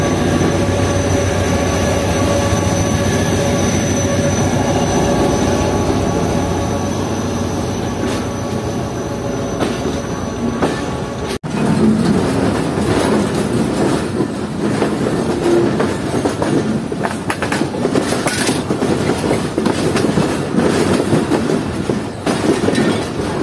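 Jaffar Express passenger train rolling along the rails, a loud continuous rumble from on board with rhythmic clatter of wheels over joints, a sharp bang partway through and squealing wheels later, with no talking.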